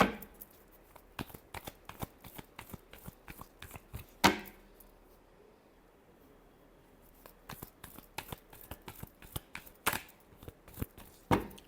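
Tarot cards being shuffled by hand in a quiet room, a run of crisp riffling clicks and soft slaps with short pauses between bursts, close and moderately quiet.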